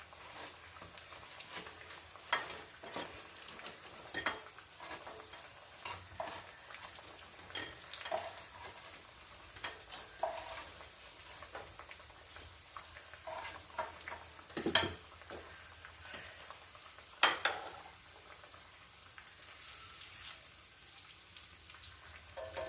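A breadcrumb-coated cutlet fries in a pan with a soft, steady sizzle and scattered crackling pops, faint and continuous throughout with no voices.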